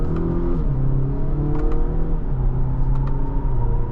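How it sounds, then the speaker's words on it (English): A 2025 Acura RDX SH-AWD accelerates, heard from inside the cabin as a steady engine drone rising and shifting in pitch, with smooth transmission changes under a muted road rumble. "Nice acceleration, transmission responds very smooth, quickly, and it's a smooth drive"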